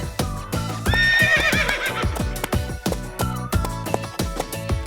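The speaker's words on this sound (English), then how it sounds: "Next I have 3 Icelandic horses." Three Icelandic horses, small and nearly pony-sized, whinny loudly and close with shrill wavering neighs, mixed with repeated hoof clip-clops and snorts.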